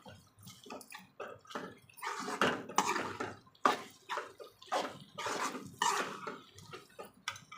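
Water from a mixer jar is poured into a pan of brinjal curry, with splashing, trickling and a few clinks of metal vessels in uneven bursts, close and soft, with no talk.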